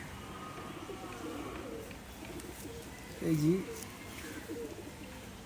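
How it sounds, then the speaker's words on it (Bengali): Imported Indian Madrasi pigeons give a single short coo, near and fairly loud, over a quiet background with a brief word spoken. "আমার হাতের এই কবুতরটা হলো মাদি কবুতর"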